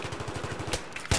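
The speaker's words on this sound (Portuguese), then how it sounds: "não tô vendo nem da onde tá vindo o tiro" Rapid automatic gunfire in the Battlefield 3 metro map, a steady burst of evenly spaced shots followed by a louder close blast at the end.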